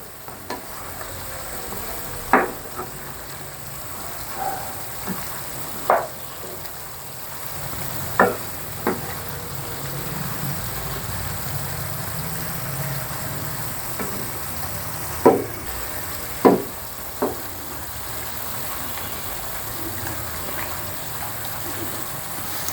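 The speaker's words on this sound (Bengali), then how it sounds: "4-5 মিনিট পরে আমি একটু ঢাকনাটা খুলে উলট পালট করে দিচ্ছি" Cauliflower korma gently sizzles in a pan as the lid is lifted and a spoon stirs it, with scattered sharp clinks and scrapes of utensil against metal over a soft, steady frying hiss.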